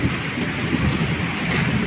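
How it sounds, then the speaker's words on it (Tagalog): Steady rain falls around a bahay kubo, a continuous even hiss with no distinct drops standing out, close and moderately loud throughout the short stretch. "Inaabot na tayo ng ulan, mga tropa."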